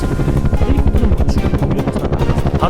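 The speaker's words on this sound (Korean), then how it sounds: "헬리콥터가 천천히 이륙하는 동안" Helicopter slowly lifting off in a 007 spy film, loud rhythmic rotor thumping pulsing steadily throughout with turbine whine, close and dominant.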